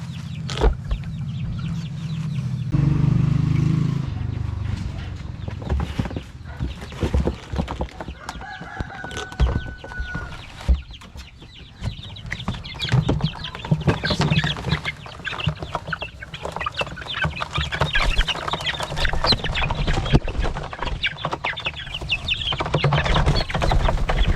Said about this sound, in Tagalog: So dito na yung mga sisiw natin.